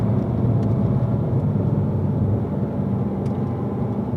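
Race car engine at Spring Mountain track pulling through a curve under light added power, a steady mid-pitched near drone with constant loudness and no speech.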